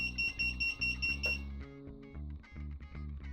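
Repeated electronic beeping from the buzzer of a Leader 3 SE quadcopter drone: loud, close, high-pitched tones in a quick stuttering rhythm, with a few tonal pauses between bursts.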